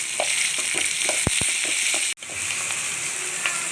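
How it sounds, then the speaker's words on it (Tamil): Onions and curry leaves frying in oil for a mutton gravy, a steady loud sizzle with a few brief clicks and a short break partway through, close up with no talking. "இதெல்லாம் போட்டு இது நல்லா ரெட்டிஷாக செவக்கிற அளவுக்கு நல்லா ஃப்ரை பண்ணிக்கோங்க."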